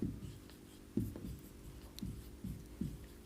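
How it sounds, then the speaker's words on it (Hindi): Writing on a board during a chemistry lesson, several short, close scratching strokes spaced unevenly over a few seconds, with no speech. "तो देखिए लिख रहे हैं"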